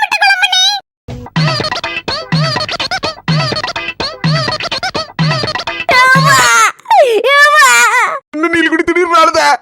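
An adult in a Tamil comedy skit cries after being struck with a papad, starting with rapid, rhythmic sobbing bursts that swell into loud, close, wavering wails with short breaks between them.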